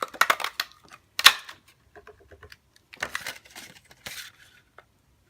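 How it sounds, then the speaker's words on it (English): A hand paper punch snaps through cardstock to cut out daisy shapes, producing several sharp clicks and clacks in short bursts with quiet pauses between them, close by on a tabletop. "So just punch these out."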